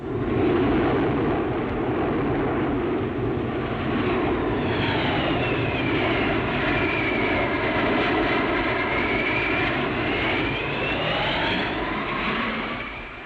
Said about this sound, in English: As the planes wheel and turn, they leave a trail of smoke